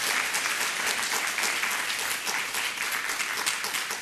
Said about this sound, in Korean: 뜨거운 박수로 우리 한번 환영을